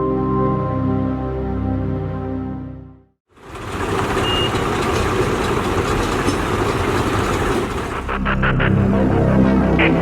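Tractor engines idle during a farmers' tractor rally, giving a loud, continuous, rumbling drone with broad mechanical noise. A brief tonal passage comes before the drone, and the rumble swells slightly near the end.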